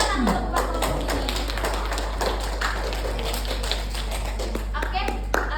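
Students in a classroom clap for a group after its presentation, a scattered run of hand claps and taps with voices murmuring underneath throughout.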